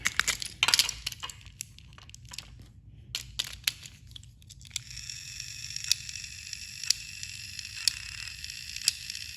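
Toy Thomas the Tank Engine train motor running with a cracked gear: faint, close, irregular crackling and clicking at first, then a steady thin motor whine broken by regular sharp ticks about once a second.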